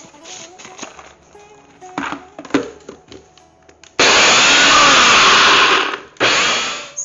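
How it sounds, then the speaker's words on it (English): An electric grinder pulverizes walnuts in a kitchen. A few seconds of clinks and handling noises come first, then a loud, close, steady motor roar with a brief pause before it starts up again. "Next, I'm going to grind the walnut, and I'm going to show you what happens when you grind the nuts."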